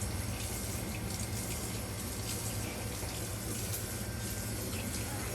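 A tap runs steadily into a sink while something is washed under it, a continuous close, broadband hiss and splash of flowing water with no breaks.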